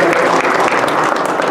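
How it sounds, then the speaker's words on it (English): Loud, close crowd applause at a boxing weigh-in, a short burst of dense clapping with a murmur of voices mixed in. "Give them a big round of applause."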